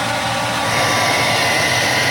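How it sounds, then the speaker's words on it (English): A hair dryer blows with a steady, loud whooshing roar close by, running continuously without pause, used to defrost a freezer aboard a sailboat. "using a hair dryer"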